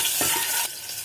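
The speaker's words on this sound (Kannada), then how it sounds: "ಒಂದು 2 ಎಣ್ಣೆ ಒಗ್ಗರಣೆ ಹಾಕೋಣ." Tempering spices crackling in hot oil in a pan, a close bright sizzle broken by a few soft clinks of a stirring spoon.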